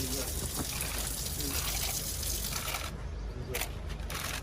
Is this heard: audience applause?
no